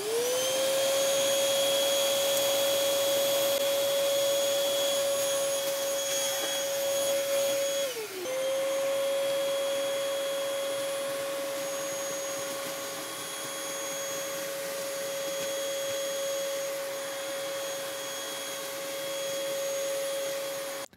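A Bissell Featherweight cordless stick vacuum runs continuously with a smooth, steady motor whine and airflow hiss, dipping briefly in pitch once midway before settling back to an even drone.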